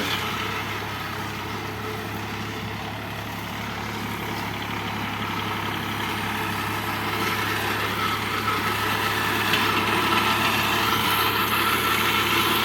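A DTZ 5244 tractor engine runs in a steady, unbroken drone while mowing grass in an orchard among apple trees, close and constant for the whole stretch, with no voices.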